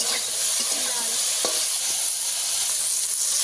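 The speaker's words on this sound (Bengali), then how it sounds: "ঢেঁড়সগুলোকে আমি একদম ভালো করে ভেজে নেব" Okra with turmeric sizzles in a pan and is stirred with a spatula, giving a steady hiss with scattered scrapes and light clinks and no talk.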